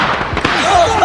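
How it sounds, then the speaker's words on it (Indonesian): A firecracker thrown into a van goes off, one loud, close, muffled burst followed by a short rumbling ring inside the vehicle. "Val kemudian menyalakan petasan dan melemparkannya ke dalam mobil van."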